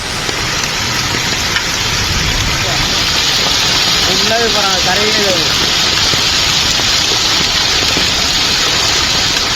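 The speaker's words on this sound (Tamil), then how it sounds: "கோடை மழை பெய்தது" Steady summer rain pours down outdoors in Tamil Nadu, a dense continuous hiss throughout, with a brief faint warbling sound midway and possible distant traffic.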